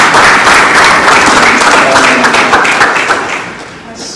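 A conference audience claps for a woman who asked a question, a dense, loud round of applause that carries on steadily and tapers off toward the end, with some voices mixed in.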